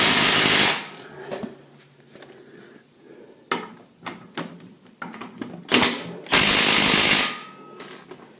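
An impact wrench working on a Bobcat T-250 track loader fires in loud, harsh bursts at the start and near the end, with scattered clanks and tool handling in between, all close by.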